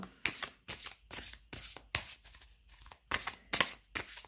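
Tarot cards being shuffled by hand in quick riffling bursts, about eight short crisp flurries separated by brief pauses, close and fairly quiet.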